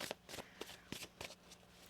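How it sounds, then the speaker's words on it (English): A deck of tarot cards is shuffled by hand, giving a quick run of soft riffling slaps in a quiet room. The sound is close but faint. "One more shuffle here."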